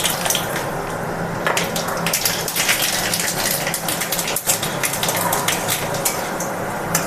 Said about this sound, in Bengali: এখানে দিয়ে দিচ্ছি সর্ষে ফোড়ন, কালো সর্ষে ফোড়ন দেব।